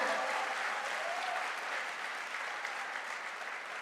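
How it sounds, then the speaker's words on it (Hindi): An audience at a direct-selling diamond promotion event claps steadily, a continuous, even wash of applause that stays fairly distant and slowly fades slightly. "अरे ताली बजाना तो थोड़ा जोर से बजाइए"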